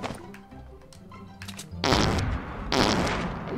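Fortnite grenade explosions, two loud broad blasts with long noisy tails following a stretch of quieter game sounds, heard alone with no talk.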